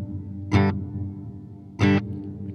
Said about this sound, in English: that's just putting reverb on the lower half of the signal